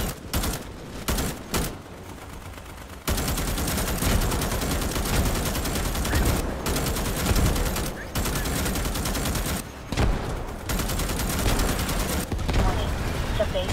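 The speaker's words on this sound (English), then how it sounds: "There's a lot of rockets happening" Rapid bursts of gunfire and rocket blasts from the sci-fi shooter Starship Troopers: Extermination pound away densely and loudly, nearly continuous with only brief gaps, while someone talks underneath.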